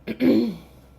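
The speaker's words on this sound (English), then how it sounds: "sorry about throat clearing, but to me it's better than coughing." A short throat clearing: a quick rough burst followed by a longer, lower guttural rasp, close and fairly loud, then quiet.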